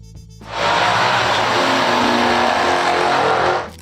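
A 1967 Chevrolet Corvette L88 race-bred V8 roars past close by in one loud, sustained burst lasting about three seconds before dropping away.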